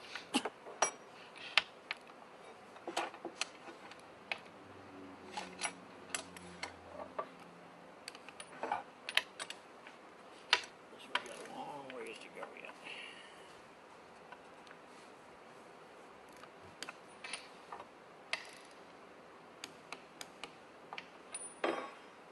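A torque wrench clicks at 250 inch-pounds while bolts on an aircraft propeller are tightened, producing scattered sharp, crisp clicks over a low, quiet background, some in clusters and some spaced apart.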